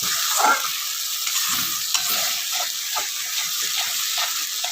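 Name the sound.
stirring spiced duck egg curry in a pan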